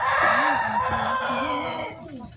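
Bangkok chickens at a farm, loud and close: a rooster's crowing mixed with repeated clucks and calls over a steady background of other fowl, with no talk.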